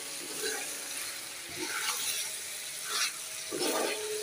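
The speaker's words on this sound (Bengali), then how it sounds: "তো তরকারিটা আমি এখন সুন্দর করে কষিয়ে নিচ্ছি।" Shrimp, potato and sweet pumpkin curry sautéing in a pan, giving a soft continuous sizzle with brief stirring scrapes and louder bursts every second or so; no one speaks.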